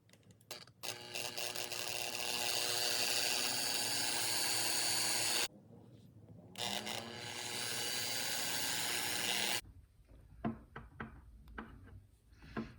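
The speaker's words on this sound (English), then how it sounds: "let's drill some holes first." Drill boring holes through thin wood for a suspended jerk bait lure, a steady high whine running for several seconds, stopping briefly, then resuming before cutting off into small clicks and handling noises.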